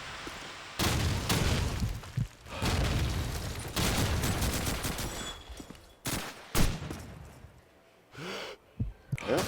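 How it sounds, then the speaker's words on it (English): Grenade blast and bursts of gunfire from a competitive esports shooter match at GOTN Columbus 2025, with loud repeated shots and explosive booms in fast, irregular clusters broken by brief quieter gaps. "So set nade from Zik."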